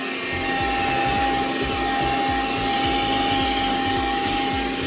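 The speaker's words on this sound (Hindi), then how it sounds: "तो देखिए यहाँ पे वैक्यूम क्लीनर स्टार्ट हो चुका है।" A vacuum cleaner runs steadily and loudly while cleaning a car interior, a constant motor whine with a low rumbling pulse and no speech over it.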